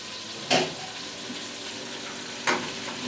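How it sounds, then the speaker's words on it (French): Lamb shanks go into a very hot pan and sear with a constant crackling sizzle, punctuated by two sharp louder bursts of spitting fat as the meat is placed or moved. "Une fois que c'est bien chaud, on met nos souris à l'intérieur."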